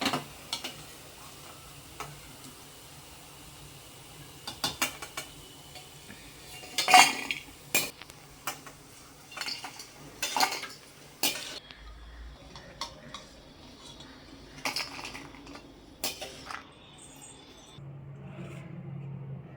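Fried toor dal vadas being lifted out of hot oil in a pan: scattered faint metallic clinks and taps of a utensil against the cookware, spaced irregularly over a quiet background.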